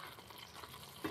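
Palakova milk sweet mixture frying and being stirred in a pan, a faint continuous sizzle with soft scraping, heard alone.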